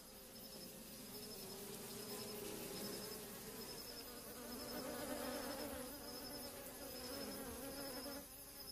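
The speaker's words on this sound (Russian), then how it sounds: "Но ночью пчелы спокойнее, а дым от тлеющего факела успокаивает их еще больше." A dense, steady buzzing of many wild African bees swarming close by at night, continuous and unbroken throughout with no voices.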